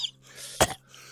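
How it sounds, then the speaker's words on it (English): One short, quiet cough in an otherwise hushed moment. "I don't know why I'm coughing."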